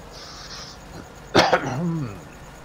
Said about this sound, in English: No, just clear my throat.